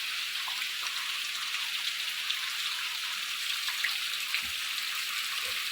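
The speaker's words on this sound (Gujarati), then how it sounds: "જોરદારનો વરસાદ ચાલુ થયો છે આપણા ગામમાં" Heavy rain is just starting in a village, heard as a soft, even hiss with a few scattered drop hits close by. No one talks.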